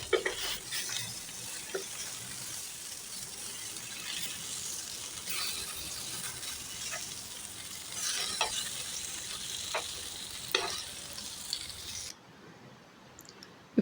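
A tea-time snack sizzles and crackles steadily in hot frying oil, with occasional sharp scrapes and taps as pieces are stirred and turned over, then the sizzle drops away abruptly at the end.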